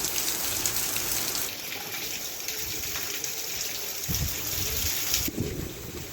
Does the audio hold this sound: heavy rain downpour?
yes